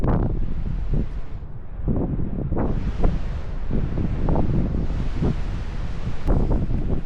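Strong, cold wind buffets the microphone at an outdoor lookout at Katoomba's Three Sisters, a steady low rumble broken by repeated loud gusts throughout.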